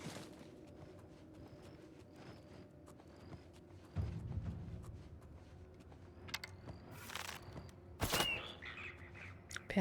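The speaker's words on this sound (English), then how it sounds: "I hear like some weird chirping. I'm like, what is it?" Faint, scattered bird chirps and tweets sound within the ambient soundscape of the video game Oblivion, over a low steady background hum with a few louder bursts near the end.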